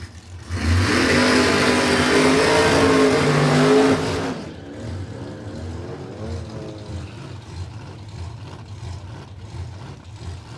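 A drag racing car launching hard at Warwick Dragway: a loud, sustained high engine roar for about three seconds that cuts off abruptly, leaving a quieter rumble of engines idling and revving in the background.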